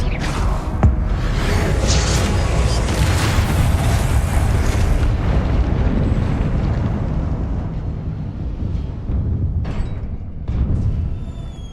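Confringo blasting spell exploding in the Hogwarts Legacy video game: a loud, rumbling blast that sustains and slowly decays, followed by a few smaller bursts near the end.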